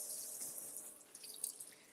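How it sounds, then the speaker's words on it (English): Tap water runs steadily from a sink faucet as a sheet of rice paper is held under the stream, a faint continuous splashing hiss with no talking. "I'm just gonna run this under the sink water."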